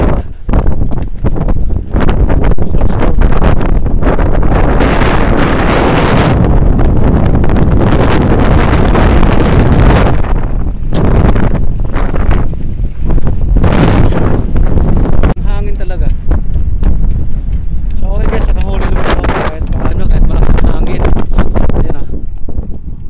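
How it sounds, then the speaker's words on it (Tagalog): Strong wind buffets the microphone in loud, roaring gusts throughout, with a voice speaking intermittently beneath the blasts. "Sobrang lakas ang hangin."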